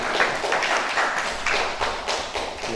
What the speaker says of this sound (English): Clap for him.